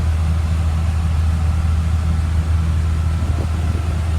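A 2004 Blue Bird 72-passenger school bus with 75,000 miles idles with a steady, low, even engine rumble that is close and continuous, with no talking.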